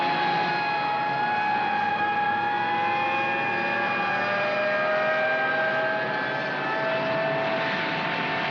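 A multi-engine propeller airplane drones steadily and loudly, its number four engine on fire, as it comes in for an emergency landing on the runway. Several engine tones hold and slowly shift pitch, with no talk.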